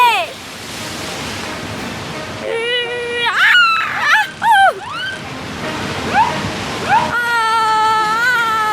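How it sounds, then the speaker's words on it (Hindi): Big waves crash and splash around a boat at sea in a Hindi kids' cartoon, a continuous rushing surge under lively cartoon voices speaking over it. "लहरें बहुत बड़ी हो जाती हैं।"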